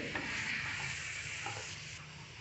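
Chicken pieces frying with salt and turmeric in a pan, a soft continuous sizzle with a few faint stirring scrapes, fairly quiet and close, no voices.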